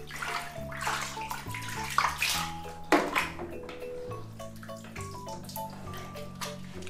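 Running water pours and splashes steadily as a cat with scabies is rinsed in a tub, with drips and light pings over a continuous stream and no talk.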